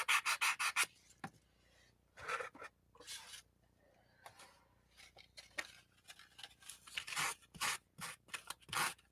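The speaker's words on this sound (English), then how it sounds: "This is a nice sandpaper. This grit is, I'm guessing 80." Coarse 80-grit sandpaper rubs against a recycled chess piece in quick bursts of rasping strokes, some rapid and rhythmic, others slower with pauses between, close and fairly faint, no voices.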